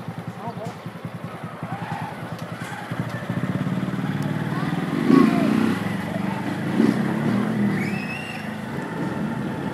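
Honda Fan 160 motorcycle engine and exhaust idling and revving nearby, a steady low throbbing rumble with a couple of louder surges, heard under outdoor ambience and voices.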